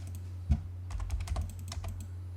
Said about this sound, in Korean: 키보드에서 L을 입력하고 엔터 또는 스페이스바입니다